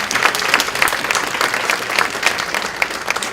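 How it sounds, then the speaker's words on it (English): A crowd at an awards gathering gives a loud, sustained round of applause, with dense clapping close by and no talking over it. "Give Dr. Fryer a big round of applause"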